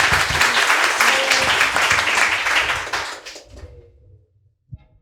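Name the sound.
audience applause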